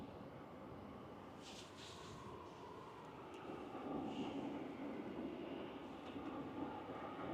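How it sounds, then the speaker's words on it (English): A Spirit Airlines Airbus A320neo arriving from Reno gives a steady, distant jet roar that swells slightly partway through, with no talk over it. "Next arrival is Spirit Airlines Flight 2347 coming in from Reno on an A320 Neo"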